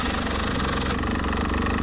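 A motorcycle engine runs steadily at close range for about two seconds, a dense mechanical idle with a brief high-pitched whine fading at the start, and no voices.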